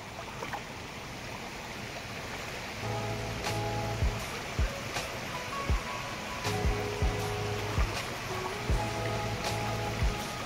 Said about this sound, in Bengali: ভালো স্রোত